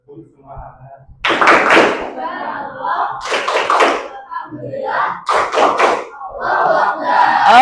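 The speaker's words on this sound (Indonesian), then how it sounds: "boleh dong diberikan tepuk semangatnya" Indonesian classroom students perform a rhythmic spirit clap, bursts of clapping interleaved with group chanting in a patterned call, close and loud, with a voice speaking briefly at the start.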